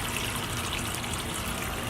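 A water pump circulates water through an iguana and tortoise enclosure, giving a steady, close trickling and bubbling flow that runs unbroken and alone.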